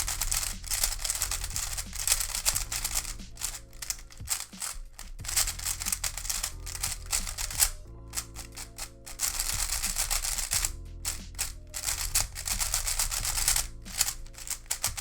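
A magnetized puzzle cube is turned rapidly by hand, giving dense bursts of close, crisp plastic clicking and snapping, with only brief pauses between runs of turns.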